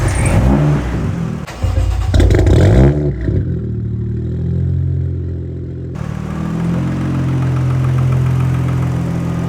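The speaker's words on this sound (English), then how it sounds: "Let's get this thing fired up and hear what it sounds like now." A 1992 Toyota Mark II JZX90 with a 1JZ-GTE twin-turbo engine cranks briefly, fires up and settles into a steady, close idle with mechanical clatter.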